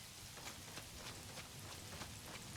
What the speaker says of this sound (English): it feels like it has been raining like non-stop